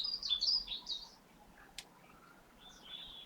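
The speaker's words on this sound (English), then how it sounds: "Opening to the bird song" Birds chirp and tweet in a short outdoor stretch of song, a burst of bright calls at the start, then quieter scattered chirps, fairly faint and with no talk.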